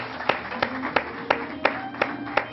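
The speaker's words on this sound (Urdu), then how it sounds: "میں تالیاں بجانا چاہوں گا اس بات پہ" Hand clapping in a TV studio, roughly seven distinct claps at an even, unhurried pace over a low background hum, moderately loud and close.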